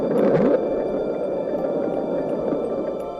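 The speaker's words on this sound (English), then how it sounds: "Now let me introduce you to the bloop" The Bloop, the mysterious underwater sound picked up by NOAA hydrophones, plays as a loud, deep rumbling swell with a brief rising tonal sweep at the start, then a sustained low drone.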